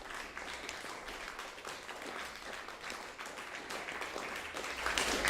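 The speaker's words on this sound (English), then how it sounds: "Let's give them all a big round of applause." A masterclass audience gives a round of applause, a steady, fairly faint wash of many hands clapping that swells slightly at the end.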